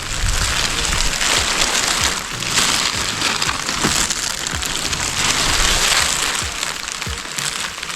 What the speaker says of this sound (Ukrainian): У нас тут дощ